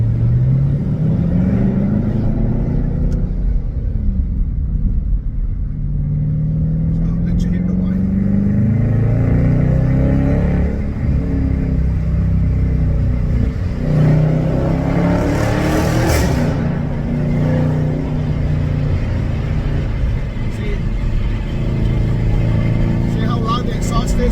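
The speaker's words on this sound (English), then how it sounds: "It does have the whine, but the exhaust is very, very loud." A Dodge Hellcat engine rumbles and revs with a loud, throaty exhaust and an aftermarket intake, steady throughout and rising in bursts, with someone talking over it.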